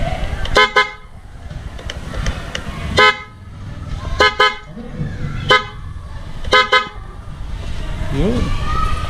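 A newly installed DIY horn on a Honda Click scooter blares in four short, loud bursts spaced a second or two apart, close up, with background noise and a little talk between beeps.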